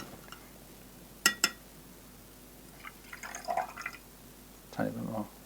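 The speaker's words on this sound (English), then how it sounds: "I just need to add a drop more water." Water is poured and dripped into a container of magnesium flakes to dissolve them, heard as a few close splashing pours and drips with a clink, separated by quiet gaps.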